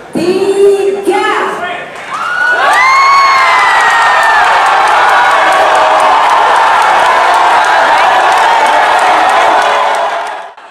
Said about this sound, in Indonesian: Teriakan masing-masing pendukung pun menggema setelah pasangan calon membuka nomor urut mereka